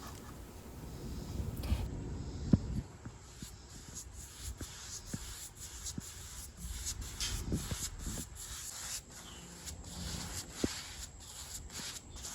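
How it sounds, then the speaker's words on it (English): Hand sanding the old finish off a wooden coffee table with 220 grit sandpaper: a soft, steady scratchy rubbing in repeated back-and-forth strokes, close and quiet, with occasional light knocks. "started sanding her coffee table with 120 and then switched up to a 220 grit to get the existing finish off"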